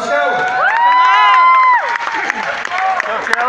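Spectators at a kickboxing match cheering, a loud burst of shouting and whooping voices swelling for under two seconds, then fading into scattered calls and claps.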